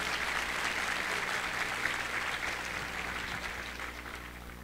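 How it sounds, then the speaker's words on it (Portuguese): An audience at the opening ceremony of an international congress applauds a Pastoral da Sobriedade representative, producing a steady, dense wash of clapping at moderate distance that slowly tapers off. "Uma salva de palmas para a Denise"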